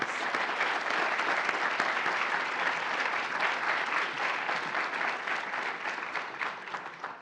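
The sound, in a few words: applause for award recipients at honors ceremony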